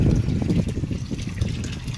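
Water rushes out of a drain or flush valve during service on a residential water heater, a steady close gushing and splashing that holds level throughout, with no voices.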